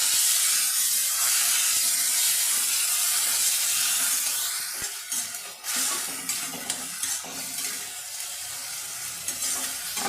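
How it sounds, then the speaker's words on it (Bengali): Grated garlic, tomato and onion fry in hot oil with a steady, close sizzle and hiss, and a few sharp clicks and scrapes of stirring break through around the middle. "আমি তেলের ওপরে দিয়ে 1 মিনিট মানে একদম অল্প টাইমে একটু নাড়াচাড়া করে মশলাটাকে ভেজে নিয়েছি।"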